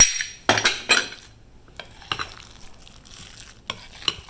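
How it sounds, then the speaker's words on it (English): A utensil stirs lemon juice into a crab cake mixture in a bowl, close wet scraping and clinking in irregular strokes, with sharp taps against the bowl. "Go ahead and mix that lemon juice in there."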